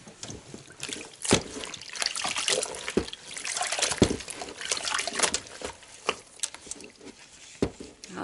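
Hand-knitted handspun bootie socks pushed into a basin of soapy water, with soft sloshing and splashing swirls and a few sharper splashes scattered through, close and fairly quiet with no talking.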